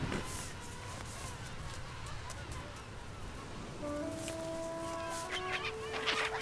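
Skuas call on the Crozet Islands: a few thin, drawn-out cries rise late over a steady roar of wind and surf outdoors.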